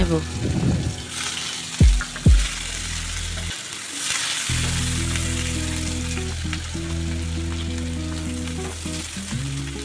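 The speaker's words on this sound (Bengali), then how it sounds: "এবার রান্নার জন্য ওই তেলে কিছুটা পেঁয়াজ ভেজে" Onions frying in hot oil for katla fish kalia, a steady sizzle with a few stirring clatters early on and a low background hum throughout.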